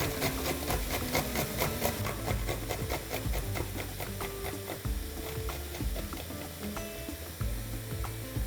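Garlic cloves are rubbed back and forth over a grater in a home kitchen, producing a steady run of close, rhythmic scraping strokes with no talking.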